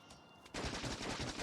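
Burst of rapid gun turret fire in Factorio, the Gleba setting, kicking in abruptly after a quiet moment and rattling on as continuous dense shots.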